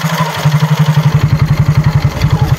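A motorcycle engine idles close by, loud and alone, with an even, rapid chugging pulse that holds steady throughout.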